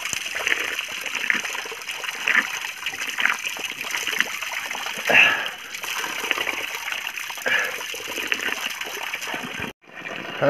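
Very cold water runs steadily from a tap at a stream called Bhalu Khola, a continuous close trickle and splash with a brief louder gush partway through.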